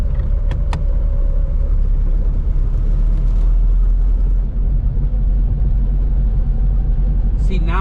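A Honda Civic EF2 driving slowly, heard from inside the cabin as a loud, steady low engine and road rumble throughout, with a few faint clicks near the start.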